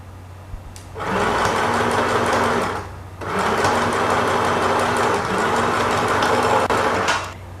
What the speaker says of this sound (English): Now we'll pin the center panel to the 2 side panels and stitch once more.